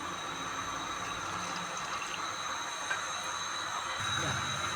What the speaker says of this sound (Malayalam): ഇനി ഇതിനെ ഞാൻ കുറച്ച് വെള്ളം ഒഴിച്ചിട്ട് ദോശ പരുവത്തിലാക്കണം അപ്പം ഞാൻ ഇവിടെ കുറച്ച് വെള്ളം ഒഴിക്കുകയാണ്